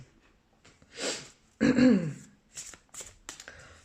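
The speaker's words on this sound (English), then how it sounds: "Let's pull some oracle cards." Oracle cards being shuffled up close, a papery riffle and several brief flicks and taps, with faint breathing or throat sounds around them.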